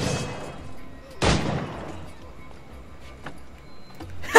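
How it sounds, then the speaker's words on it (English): Gunfire in the Assassin's Creed IV Black Flag video game, a single sharp close shot followed later by a second burst, with game ambience and scattered voices between. "They hear gunshots and they just keep walking."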